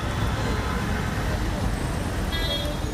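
A congested road jam on Aurobindo Marg in Delhi rumbles with idling and creeping cars, buses and trucks in a dense, continuous drone, with a brief horn toot cutting through near the end.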